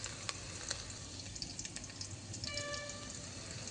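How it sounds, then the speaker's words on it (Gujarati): Chilli powder and spices being stirred into hot oil in a pan for Maggi noodles, with a faint steady sizzle and light scraping stir strokes, quiet and close. "થોડુંક આને મિક્સ કરી નાખું તેલમાં"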